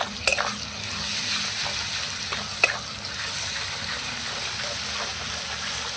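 Soybean curry fries in a pan while being stirred, a steady close sizzle and hiss broken by a few sharp scraping knocks of the utensil, with no talk.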